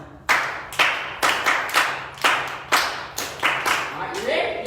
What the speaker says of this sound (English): we're going to clap 5 times